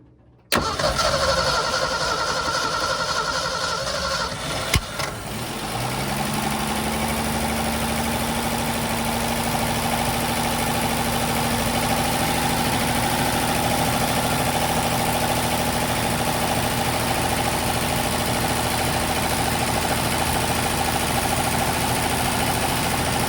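A Ford Falcon with a newly installed fuel pump cranks briefly, then fires up and settles into a steady, close, loud idle that runs evenly without any talking.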